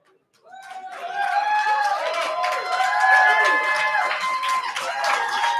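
Live studio audience at a radio show bursting into cheers, whoops and applause after a brief silence, a loud close crowd roar with shouting voices sustained to the end.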